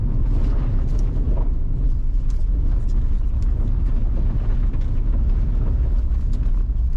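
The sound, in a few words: Rivian R1S tri-motor electric SUV accelerating, motor noise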